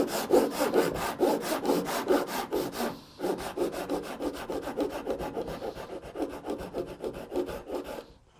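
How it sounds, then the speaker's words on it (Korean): Close hand saw cutting wood along a marked line for a mitred mortise-and-tenon joint, with steady rapid rasping strokes. A brief break comes around three seconds, then the sawing continues evenly to the end. "선을 보일랑 말랑하게 이렇게 맞춰갖고 톱질을 합니다"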